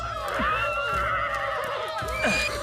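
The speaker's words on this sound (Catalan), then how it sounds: "Els homes van a capturar cavalls salvatges." Wild horses neigh in an animated scene where men set out to capture them, several whinnies overlapping with music and a busy background, with voices present in the mix.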